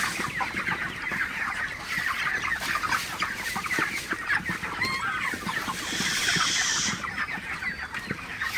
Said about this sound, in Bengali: আপনারা দেখতে পাচ্ছেন আমার মুরগিগুলো আসলে